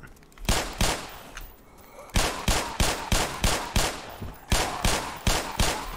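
Gunfire in the shooter Black Mesa, with a quick pair of shots followed by a steady, rhythmic run of loud, close blasts at roughly even intervals, a short pause and more shots.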